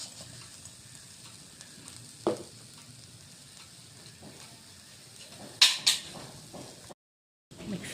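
A pan of grated coconut and powdered jaggery stuffing for sweet kadubu cooks with a low, steady sizzle, broken by a few scraping stirs and two sharp clinks near the end before a brief gap of silence.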